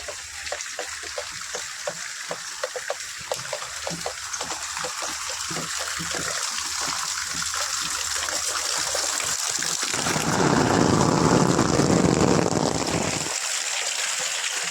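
Rainwater runs and trickles outdoors during a downpour, a steady watery rush with scattered splashes that swells into a louder gush for a few seconds before easing back.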